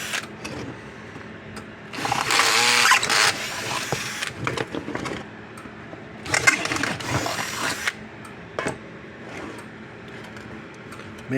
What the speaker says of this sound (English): Oh, these bushings we gotta drill out.